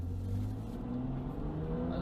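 A BMW 435i xDrive accelerates in Sport Plus mode, its engine a low, steady drone heard from inside the cabin with faint road noise, fairly quiet and continuous.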